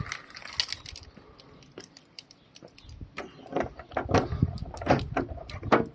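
A series of sharp mechanical clicks and clunks as a 2023 Toyota Hilux's central locking is operated with the key, along with light key jingling close by.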